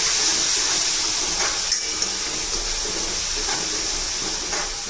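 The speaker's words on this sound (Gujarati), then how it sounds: "આપણો મસાલો બળી ના જાય માટે હું થોડું અહીંયા પાણી એડ કરું છું" Water added to frying masala with tomatoes for a bottle gourd and chana dal dish, giving a steady, close hiss of steam and sizzle with a few faint stirring clicks.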